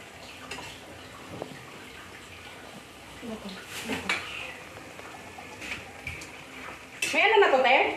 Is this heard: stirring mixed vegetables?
yes